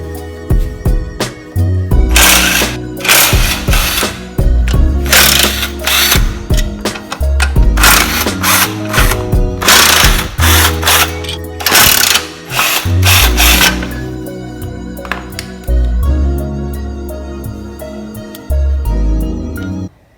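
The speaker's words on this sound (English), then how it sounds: "let's go ahead and start and get these flywheel bolts off" Ratchet and power tools removing flywheel bolts and the pressure plate from a Honda D16A engine: loud, busy mechanical clicking and whirring bursts run nearly continuously, close up and with no talking.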